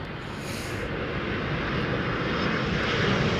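A jumbo jet landing at Heathrow gives a steady, broad engine roar that holds close and loud without a break, swelling slightly toward the end.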